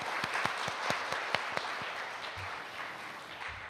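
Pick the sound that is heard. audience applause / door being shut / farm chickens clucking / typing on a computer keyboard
audience applause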